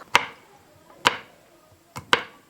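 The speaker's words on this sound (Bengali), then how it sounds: "এবারে আদা কয়েকটা নিয়ে সেটাকেও কুচি করে নেব, ছোট ছোট করে নেব।" A knife chops ginger into small pieces on a board, four sharp, distinct cuts with short pauses between them, close and clear against an otherwise quiet background.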